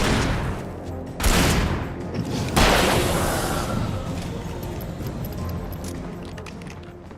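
Two heavy gunshots in Alan Wake, each a loud sharp crack followed by a long decaying echo, separated by about a second and a half.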